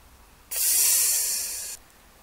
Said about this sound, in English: loosen the screw about a quarter turn until it releases the nitrogen pressure